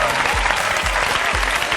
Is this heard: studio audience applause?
yes